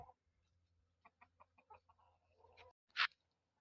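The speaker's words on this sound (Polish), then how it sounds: "I pieje trochę dziwnie, jakby miał chrypę wieczną" A rooster crowing hoarsely, a short rough crow near the end after a few soft clucks and scratchy sounds, close and fairly faint in a quiet setting.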